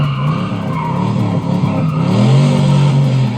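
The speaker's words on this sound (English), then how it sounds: "it is a V8, it has 335 horsepower, it has 440 pound-feet of torque, sounds like an absolute beast" A heavily modified Ford Mustang with a 335-horsepower V8, the car from the John Wick films, gives a loud, close, sustained engine roar with a rising rev and squealing tires, with no voices.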